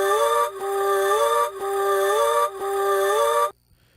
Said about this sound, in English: the last thing we're gonna mix is these vocal chants